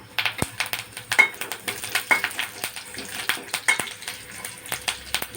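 Curry leaves dropped into hot oil over onions fried until pink give off sharp, irregular crackles and spattering pops, close and fairly loud, with a few clinks of a utensil in between.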